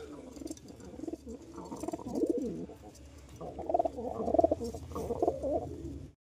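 Pigeons coo on and on from a rooftop where a pair with a new chick live. The low, warbling calls overlap and swell, with the loudest near the end, and no voices are heard.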